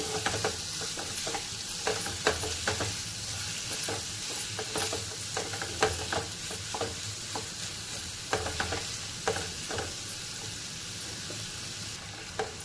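Chopped onion with a little salt sautés in a pan for a chili-spiced spring onion greens dish, a steady low sizzle broken by repeated scraping stirs of the spatula throughout, with no talk.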